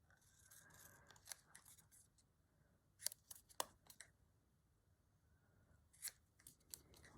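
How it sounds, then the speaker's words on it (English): Scissors snip around a small paper label at close range, with quiet irregular cuts in little clusters, several crisp sharp snips standing out against near silence. "I'm just snipping around the label."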